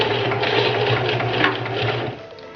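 A sewing machine stitches a wig frontal unit over a mesh cap with a comb, giving one loud, close, continuous whirring run of rapid stitching.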